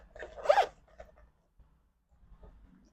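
A zipper is pulled along the top opening of a liquids bag in one quick, close rasp, followed by faint handling rustles.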